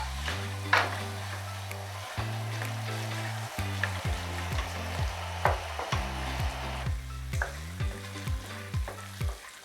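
Capsicum, onion and tomato cooking in a pan for Mumbai-style pav bhaji, a steady sizzle broken by repeated scraping stirs and clanks of a spatula against the pan, with a low hum underneath and no talk.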